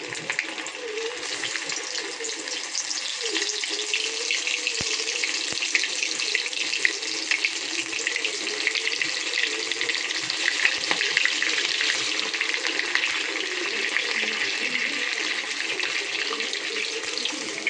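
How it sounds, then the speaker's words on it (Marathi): Lollipops are dropped one by one into hot oil for deep-frying, giving a loud, steady, crackling sizzle that runs unbroken for nearly eighteen seconds. "तेल तापत ठेवलं आहे आणि आपण एक एक लॉलीपॉप ना मस्तपैकी सोडूया."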